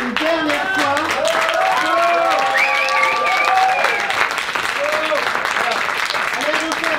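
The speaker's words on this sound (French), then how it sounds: "Je les applaudis une dernière fois." A theatre audience claps steadily after a teen drama performance, the full applause joined by cheers and overlapping voices throughout.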